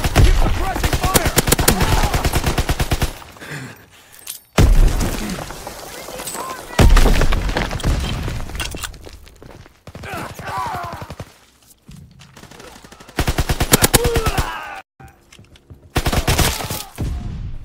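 Call of Duty multiplayer gunfire: loud rapid automatic bursts and single shots in clustered volleys separated by brief lulls, close and punchy, with shouted in-game callouts mixed in.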